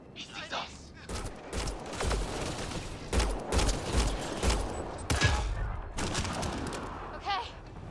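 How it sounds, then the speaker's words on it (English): Gunfire from the video game Mass Effect Andromeda: repeated loud bursts and rapid volleys of shots with thumping impacts, crowding most of the stretch, with voices calling out between the shots. "Nyan, shoot it!"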